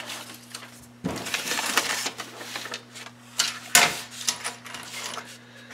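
Thick craft foam being cut for a cosplay helmet base, giving dry crunchy scraping and snipping strokes that come in bursts up close, with a steady electrical hum underneath.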